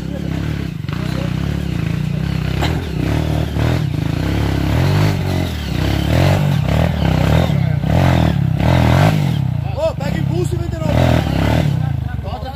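An off-road motorcycle on a rocky trail, its engine revving and labouring in bursts while stones clatter and scrape beneath, with people talking and laughing close by throughout.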